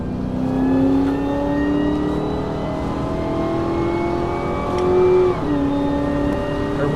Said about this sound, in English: I love the whine of the supercharger.